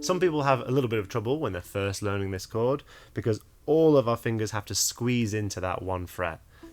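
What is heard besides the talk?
None of the usual background noises is heard.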